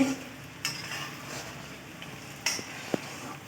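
A utensil stirs a prawn-head masala made with giant freshwater prawn heads in a pan, scraping over a soft sizzle as it fries down dry, with a few sharp clinks against the metal.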